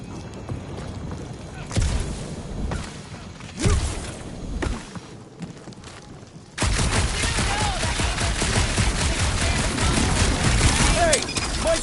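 Gunfire in the Guardians of the Galaxy video game on PS5, inside a dark area, scattered blasts at first giving way to loud sustained shooting over the final half, with character voices talking during the action.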